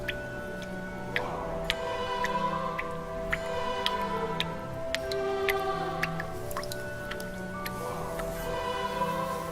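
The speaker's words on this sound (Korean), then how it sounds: "물에 젖은 발이 저벅저벅 걸어오는 소리, 물이 떨어지는 소리" Wet footsteps squelch slowly along while water drips steadily, a layered horror sound effect of soft squishes and repeated ticking drops with a faint eerie tonal bed underneath.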